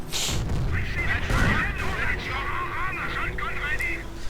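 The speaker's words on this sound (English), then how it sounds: "Nebelwerfer strikes its center, doing a bit of damage, actually completely annihilating what it looks like an entire engineer squad." Nebelwerfer rocket artillery strikes in a World War II strategy game, booming impacts and crackling blasts under continuous commentary talk.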